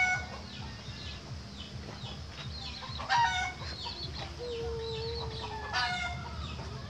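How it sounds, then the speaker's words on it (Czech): A rooster clucks repeatedly nearby, with one short crow, over a low steady background hum. "Je pěkný kohoutek."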